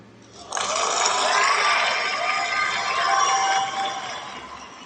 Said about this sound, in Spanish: Brindémosle un caluroso aplauso.